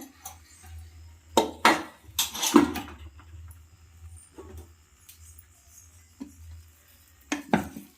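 Cooked mutton biryani stirred in its pot, heard as a few short scraping, clattering bursts with quiet gaps between them, close by and without speech.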